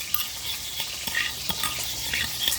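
A spoon stirring a sweet and sour sauce of soy sauce and vinegar as it sizzles in a pan, a steady close frying hiss with light scraping strokes throughout.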